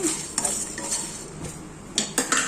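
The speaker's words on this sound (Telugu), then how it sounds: "కస్తూరి మేతి వేసి ఒక్కసారి కలిపేసి ఆఫ్ చేసేద్దాం." A spoon stirring kasuri methi into kadai chicken in a kadai, with scraping and clinking of metal against the pan over a soft background sizzle, several sharp knocks near the end.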